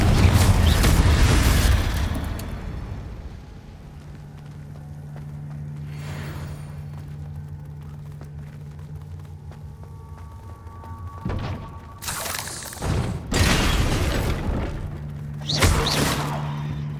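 A Confringo blast spell explodes in the Hogwarts Legacy video game with a loud booming burst at the start, followed by a low steady hum and a few later thuds and bursts.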